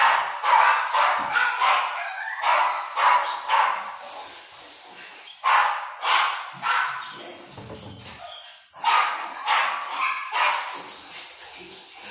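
Several dogs bark excitedly at a bird that got into a kitchen, loud repeated bursts of barks and yips in close, uneven clusters over roughly twelve seconds.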